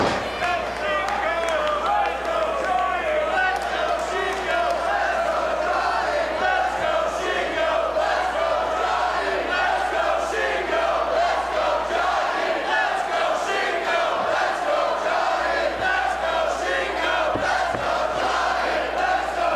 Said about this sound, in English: This crowd here at the Meadowlands deeply divided between two tremendous athletes here